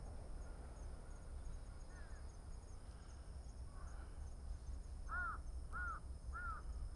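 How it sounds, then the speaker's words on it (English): Three short, clear bird calls ring out close together near the end, moderately loud over a steady low outdoor rumble, among the rocks of Hamarikyu Gardens in Tokyo. "the birds are all hiding in these rocks"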